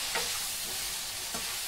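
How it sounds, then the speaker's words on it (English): Chili paste fries in a hot pan for a Thai stir fry, giving a steady broadband sizzle with a couple of brief stirring scrapes, close up and without talk. "I like to add this in early because the more the chili paste cooks, the more flavors that are in it really open up."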